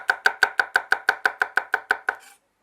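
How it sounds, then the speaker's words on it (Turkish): Garlic cloves being finely chopped with a knife on a cutting board, about fourteen quick, even, close knocks in a steady rhythm, then stopping, no talk. "Sarımsakları da ince ince doğruyorum."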